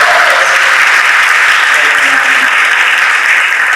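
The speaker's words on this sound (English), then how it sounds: "So a round of applause for those three" Loud, dense applause from a retirement gathering crowd honours three organizers, steady clapping sustained from start to finish.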